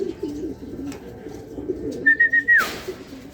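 A racing pigeon named General Luna lands at its home loft at the end of a final training flight before a derby, giving a short cooing call over a steady bed of other birds cooing nearby, followed by a brief rustle.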